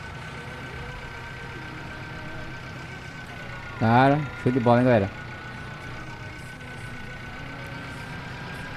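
A Massey Ferguson 4275 tractor in Farming Simulator 17 idles with a steady, low engine drone throughout, briefly overlapped by someone talking midway.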